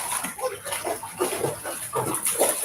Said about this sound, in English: It might just be because of the background noise of the dog.